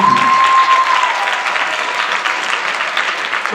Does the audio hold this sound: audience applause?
yes